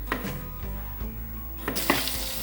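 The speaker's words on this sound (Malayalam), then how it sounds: "അങ്ങനെ കട്ടാക്കിയ തക്കാളി നമ്മൾ അതിലേക്ക് ആഡ് ചെയ്യും." Chopped tomatoes sautéing in a pan, a close steady sizzle with a few soft clinks and stirring scrapes, no voices.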